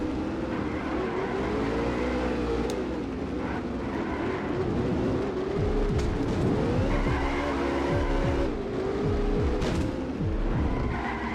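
An Alfa Romeo race car roars and skids continuously in the PS2 game Alfa Romeo Racing Italiano, the engine pitch rising and falling with repeated tire squeals throughout.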